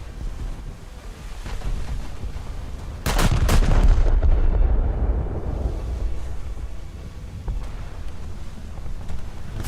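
Battleship main guns firing shells in World of Warships: a sudden loud salvo of several close booming blasts, followed by a long rolling rumble over constant wind and ocean-wave background.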